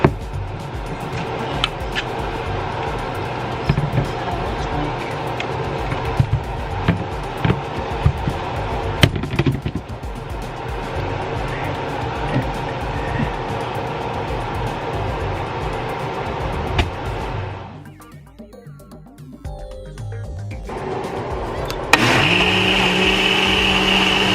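A blender whirs steadily as it churns a thick frozen smoothie. It dips and strains briefly, then revs back up to a higher, smoother pitch.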